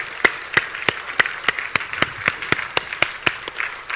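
A church congregation claps in thanks during a worship service, a steady, rhythmic unison beat of about three claps per second that is bright and close, running throughout without talk.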